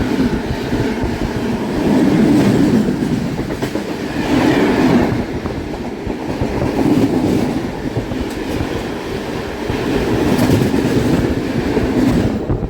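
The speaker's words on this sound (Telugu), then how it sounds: "ఎస్ఎంఈటీ బెంగళూరు నుంచి కాన్పూర్ సెంట్రల్ వెళ్ళే ట్రైన్ మనం ఓవర్టేక్ చేస్తున్నాం" Intercity Superfast Express 22618 rolling at speed while overtaking another train, a loud continuous rumble of wheels and carriages with rhythmic swells of clatter, heard from on board with no voices.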